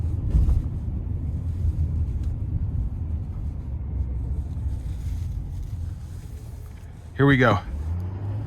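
A 2026 Chevrolet Silverado 3500HD dually with a Duramax diesel accelerates onto an interstate, giving a steady low engine drone and road rumble with wind noise, and a person briefly speaks near the end.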